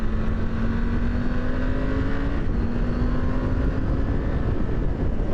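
Triumph Tiger 900 Rally Pro motorcycle underway, a steady engine drone with a rising tone and constant wind rush, close and loud throughout, no talking.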